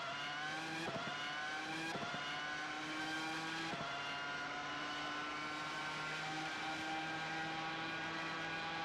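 Race car lapping Mid-Ohio in qualifying, heard onboard: a loud, continuous engine whine climbing in pitch through the gears, with sharp dips at each upshift, steady and close.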